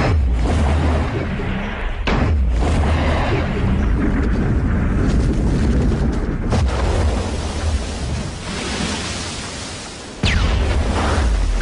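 A loud, sustained detonation rumble with broadband roar filling the whole stretch, a sharper blast surging near the end, no voices over it.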